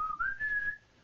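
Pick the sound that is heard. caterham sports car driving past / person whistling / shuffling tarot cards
person whistling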